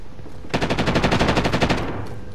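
Sustained automatic gunfire from Call of Duty: Modern Warfare, a rapid even burst of about fifteen shots lasting roughly a second and a half, loud and close, with no talk over it.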